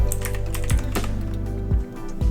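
Fast typing on a computer keyboard during a Windows image-editing session, a dense run of crisp close key clicks with a few heavier strokes standing out, no voices.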